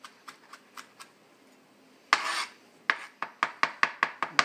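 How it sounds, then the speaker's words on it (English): A cleaver smashes and chops an ingredient on a cutting board for a wild mushroom ramen stir fry: a few light taps, one heavy crushing blow, then a quick run of about eight sharp, evenly spaced knocks, close and clear. "I'm just going to smash this. It's a great use for the cleaver."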